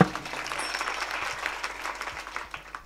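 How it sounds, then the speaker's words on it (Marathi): An audience at a kirtan claps together in a sustained, fairly close round of applause, with dense overlapping hand claps that thin slightly toward the end. "एकदा टाळी वाजव ना"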